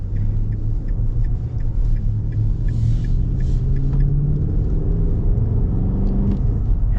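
A 2024 Nissan Titan SV pickup with a 5.6 V8 rumbles steadily from inside the cab while driving, a deep low drone with a faint rising engine tone and no talking.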